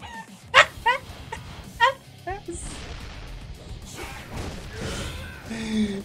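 In the video game Like a Dragon: Ishin, a dog yips and barks in several sharp bursts amid game effects, with people talking over much of it.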